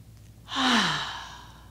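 A single long exhale during a yoga pose, a close, soft sigh that swells and then fades out, with no talking.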